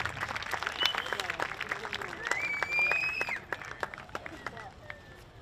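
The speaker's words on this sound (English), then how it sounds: "our arena director, a big round of applause" Audience applause at a world hoop dance championship: steady clapping from a crowd, fairly close, with an announcer's voice and whistle-like calls over it, tapering toward the end.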